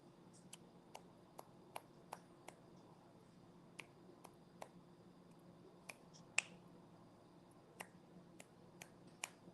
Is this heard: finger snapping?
yes